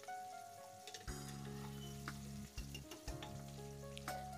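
Onion, garlic and ginger sizzle steadily in a hot pan while a jackfruit curry is cooked, with occasional stirring clatters of a spoon against the pan breaking through the continuous frying hiss.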